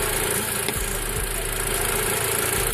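A 2008 Mitsubishi Outlander with 230,000 miles runs steadily, a close, low, even engine hum after a transmission fluid flush.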